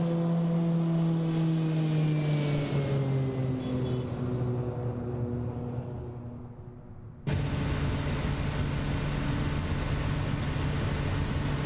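A SimWorks Kodiak 100 propeller engine in MSFS 2024 on takeoff: a steady, loud droning hum whose pitch slides down and fades, then cuts abruptly back to a full, constant roar.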